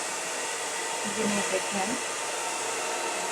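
A blow dryer runs close and loud while drying hair, giving a steady, unbroken rushing whoosh for the whole stretch; one voice speaks briefly over it.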